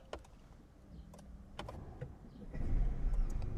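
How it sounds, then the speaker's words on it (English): A Lancia car engine starts up inside the cabin: a few faint clicks and switch sounds, then the engine catches at about 2.5 seconds and settles into a steady, louder low rumble that fills the rest of the clip. "Let's start the engine."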